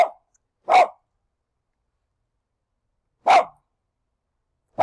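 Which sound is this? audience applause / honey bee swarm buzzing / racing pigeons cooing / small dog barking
small dog barking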